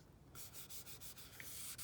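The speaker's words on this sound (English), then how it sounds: "if you take this paint stick in the 1500 and you start sanding on here" Sanding a clear coat run with 1500 grit paper wrapped on a paint stick on a 1959 Chevy El Camino, quick rhythmic back-and-forth rasping strokes, close and soft, about seven passes.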